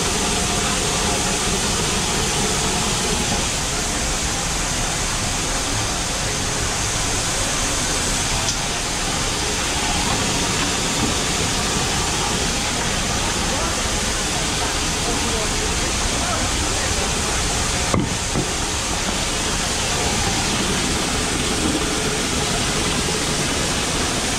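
Winter barley grain pours steadily out of a trailer as it is unloaded, a loud continuous rushing hiss that holds for the whole stretch, with a tractor engine droning underneath and people talking over it.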